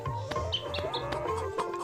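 A cartoon hen clucks in short repeated bursts over a steady bed of music and background sound, with a few brief chirpy calls mixed in.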